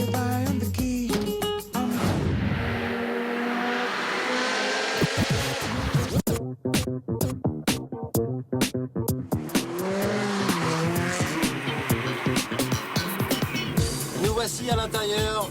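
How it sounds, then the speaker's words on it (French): A Ferrari 360 Challenge Stradale howls on a racetrack, its engine rising through rapid gear changes with tire squeal, loud and close, and a voice talks over the engine noise. "rendez-vous sur la ligne de départ pour 2 tours chrono à bord de cette Modena Stradale"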